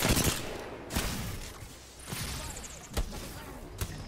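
Sharp gunshots from a video game fire in several separate bursts, a few distinct cracks spread unevenly over a few seconds against a busy game background.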